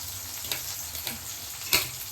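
Ingredients sautéing in a pan for vadai kara kulambu: a quiet, steady sizzle with a few light stirring clicks, including one sharper scrape near the end.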